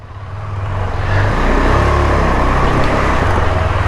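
A KTM 390 Adventure motorcycle ridden into a house, its engine rumbling close by and rising steadily in loudness as it moves forward, with no talking.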